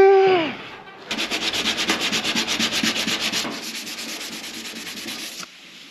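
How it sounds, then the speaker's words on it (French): Wood filler being sanded by hand in close, steady rhythmic strokes for several seconds, with no talking. "il y a un mastic que j'ai pas poncé."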